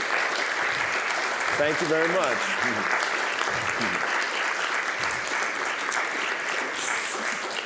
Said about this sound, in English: let's give another round of applause to